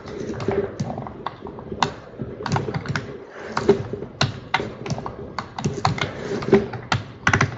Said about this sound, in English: So I'm gonna tap W on my keyboard, and the edges appear.